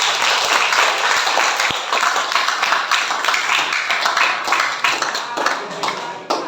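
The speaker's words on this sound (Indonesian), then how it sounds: "Kita kasih tepuk tangan atas jawaban yang luar biasa." Audience applause at a character-education talk, a dense steady clapping that fills the room, lasting throughout with a few sharper individual claps near the start.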